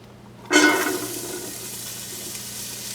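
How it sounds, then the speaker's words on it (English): Chopped onions hit hot oil in a pan for a Moroccan dish, giving a sudden loud hiss that settles into a steady sizzle, with no talk. "we're going to start by putting in some oil. And to this, we're going to add our onions."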